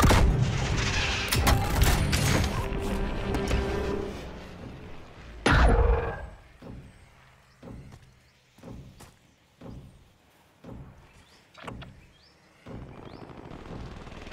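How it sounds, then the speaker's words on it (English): A precision airstrike pounds the area in Call of Duty: Warzone Plunder, opening with a dense roaring barrage followed by a series of separate heavy booming blasts spaced out over several seconds, fairly loud with no talk. "Precision airstrike incoming."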